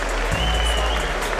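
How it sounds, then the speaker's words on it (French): Spectators clap at the end of the third and final round of a bout between two fighters, a brief burst of applause heard over a steady low hum. "Fin de la troisième et dernière reprise, on peut les applaudir"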